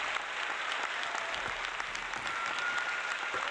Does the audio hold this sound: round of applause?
yes